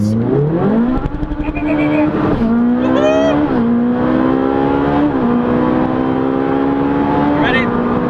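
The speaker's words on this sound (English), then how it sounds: "I'm just going to brake hard and hold in this down paddle here, and it's just going to downshift for me" Ferrari 458 Speciale V8 in race mode, braking hard and auto-downshifting on a held paddle: a loud close engine drone, rising then stepping down in several blips as gears drop, with a voice talking over it.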